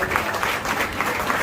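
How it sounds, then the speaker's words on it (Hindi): Steady, dense applause from a seated audience in Raipur welcoming an honoured guest at a lecture on millets, with continuous clapping throughout. "आप सभी उनके सम्मान के लिए जोरदार तालियों से उनका स्वागत कीजिए।"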